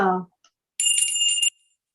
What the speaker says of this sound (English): Ring the bell, Annette.